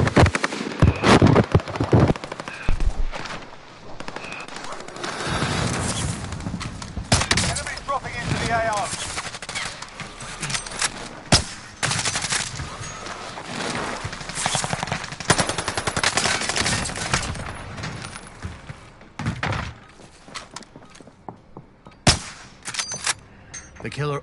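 Rapid bursts of automatic gunfire and single gunshots from a military shooter video game, loud and close, repeating in dense volleys throughout with brief pauses, with a voice speaking in the mix.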